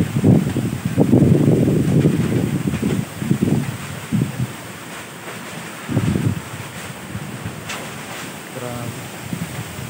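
Strong wind gusting at night after a tree has fallen near a house, a loud, continuous broadband roar swelling and easing across the whole stretch, with brief voices faintly mixed in.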